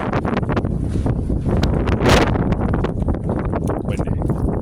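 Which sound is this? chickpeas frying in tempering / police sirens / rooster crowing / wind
wind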